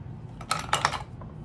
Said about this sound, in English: That's the sound of the Tarte Maracuja falling down.